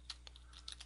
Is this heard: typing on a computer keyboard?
yes